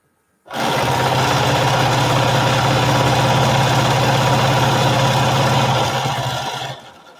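Sewing machine stitching placemats, starting abruptly and running in one loud continuous close-up hum for about six seconds before winding down and stopping.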